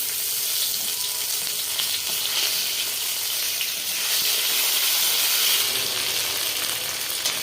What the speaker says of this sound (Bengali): কই মাছটা ভাজা হয়ে গেছে আমি পেঁয়াজ আর লঙ্কা বাটা দিয়ে দিচ্ছি